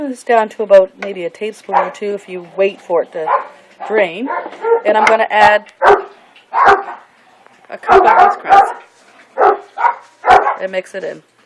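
Two pet dogs, a little one and a big one, bark and yip repeatedly in the background of a home kitchen while someone talks steadily over them as she cooks meat filling for a tourtiere pie.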